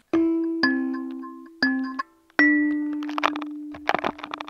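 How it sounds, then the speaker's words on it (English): A kalimba resting on a cardboard microphone has its tines plucked up close: a few clear ringing notes that each fade out, then a quicker flurry of bright plinks. "I think I'm going to lay the kalimba down on top of that cardboard mic."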